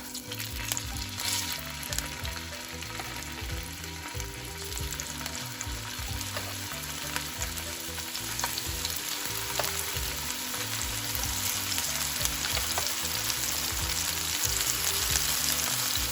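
Chicken pieces fry in hot oil in a pan, a dense, steady sizzle and crackle heard close up, continuous throughout with no talking.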